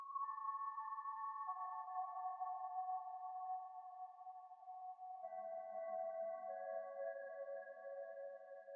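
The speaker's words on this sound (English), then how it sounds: "for the hook section, I added this lead" Clean synth lead for the hook of an R&B beat, sustained tonal notes shifting pitch, with a second layer entering halfway through, smooth and steady with no voices.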